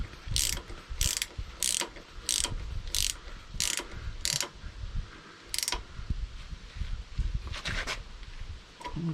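A ratchet clicks in repeated short bursts, about nine quick ratcheting strokes spaced fairly evenly, close and sharp, as a steering pin bolt on a wheel loader is tightened down, with some clunks and rustling between strokes.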